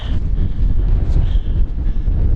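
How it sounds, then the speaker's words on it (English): Strong, steady mountain wind high on Aconcagua buffets the microphone with a loud, low rumbling roar that gusts slightly but never lets up. "it's very windy up here"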